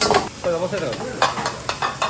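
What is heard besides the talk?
wok tossing and stir-frying in a ramen shop kitchen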